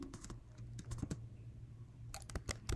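Computer keyboard typing in irregular bursts of crisp key clicks, a quick cluster at the start and again near the end, close and fairly quiet over a low steady hum, with no voices.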